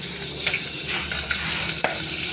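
Crushed garlic and sliced onion sautéing in hot oil, a steady close sizzle and spatter with a few sharp pops and stirring scrapes throughout.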